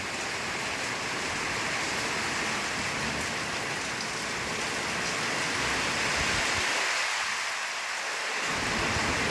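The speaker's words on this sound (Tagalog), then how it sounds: "Malakas pa rin po yung ulan." Heavy rain pours down steadily in Daet in a dense, hissing wash, with a brief low rumble of wind swelling near the end.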